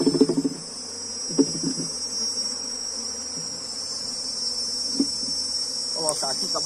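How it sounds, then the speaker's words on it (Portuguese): Honey bees buzz in a dense, steady drone around a hive as a frame is shaken, with a few faint thuds and rustles from handling nearby. "Aqui tem muita abelha na lateral"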